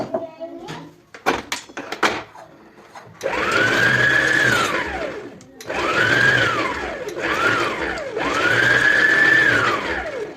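An electric mixer whirs through donut batter with powdered sugar in three sustained bursts that rise and fall in pitch, close and loud, after a few brief clatters and a moment of talk at the start.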